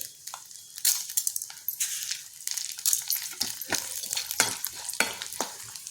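Peanuts, urad dal and chana dal roasting in a pan, dry rattling scrapes and stirring strokes repeating rapidly over a light crackle, close and fairly busy, with no talking.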